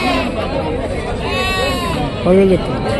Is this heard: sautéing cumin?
no